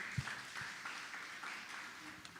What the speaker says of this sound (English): Clap for yourselves once again.